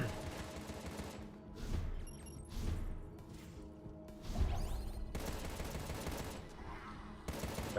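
Explosions and rapid gunfire from the game Contra: Rogue Corps, dense bursts of blasts and shots following one another over several seconds, loud and continuous with brief dips between volleys.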